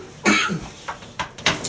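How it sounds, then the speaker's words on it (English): A person gives a couple of short, raspy coughs indoors, close by and fairly quiet, with brief gaps between bursts. "I have the damn coughs."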